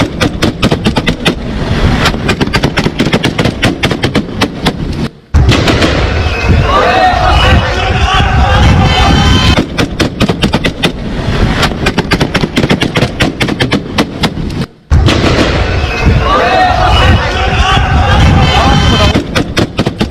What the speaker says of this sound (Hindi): आपको आवाज आ रही है फायरिंग की कि आमने सामने की गोलियां चल रही है